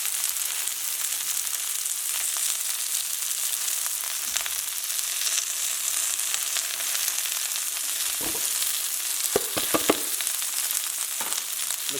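Bok choy and garlic fry in a hot pan, giving a loud, steady hiss with occasional clatters from stirring toward the end.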